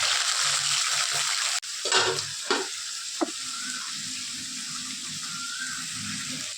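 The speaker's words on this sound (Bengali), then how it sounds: "প্রথমেই মাছটা ভেজে নেব" Tangra fish sizzles steadily in hot mustard oil in a kadai, a continuous frying hiss broken by a few sharp clanks and clatters partway through.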